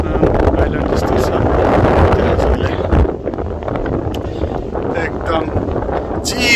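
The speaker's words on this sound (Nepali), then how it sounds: "चिसो हावा छ" Strong wind buffets the microphone on a Maldives island in the evening, a loud continuous roar with gusts, and voices are faintly present beneath it.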